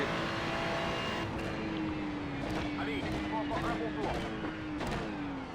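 Ferrari 296 GT3 race car engine at Spa in iRacing holds a steady loud drone with a gliding pitch that falls and rises through gear changes, with sharp shifts, while someone speaks French over it throughout.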